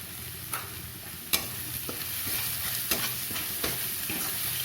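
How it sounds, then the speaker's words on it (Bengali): Onions sizzle steadily in a hot pan while a utensil scrapes and stirs them in sharp, irregular clicks, close and moderately quiet, with no talking. "দেখুন পেঁয়াজগুলো অল্প ভাজা ভাজা হচ্ছে"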